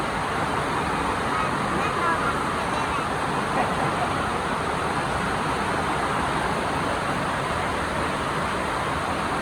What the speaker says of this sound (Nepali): यो बाटो पनि खोला बन्ला जस्तो छ आज।